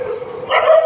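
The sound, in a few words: dogs barking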